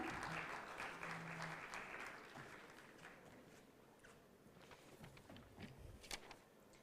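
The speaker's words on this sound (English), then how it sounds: "Big round of applause, everyone." Audience applause at an international university conference in India, a broad wash of clapping that starts fairly full and gradually thins out, with a few isolated claps standing out near the end.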